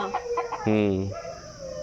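A chicken gives a few short clucks, then one louder, drawn-out squawk, fairly close by.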